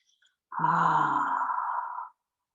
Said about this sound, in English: Take a few breaths out through your mouth. Exhale it.